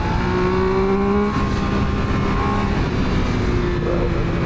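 A Triumph Speed Triple 1200 RS, a 2026 triple-cylinder sport motorcycle, pulls hard with a steady, loud engine drone and rising tone from on board, wind rush throughout on a bumpy road.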